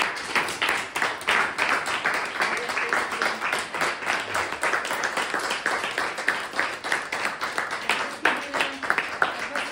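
Audience applause at a live Italian arts event combining poetry and painting, a steady dense clapping that carries through the whole stretch at a fairly even loudness.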